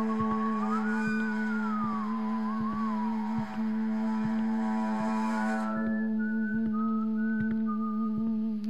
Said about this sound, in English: His whistling and the noise is hurting my ears.